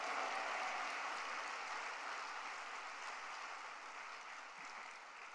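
A church conference audience claps in applause of thanks, a dense, even wash of clapping sustained throughout, fairly distant and slowly fading near the end.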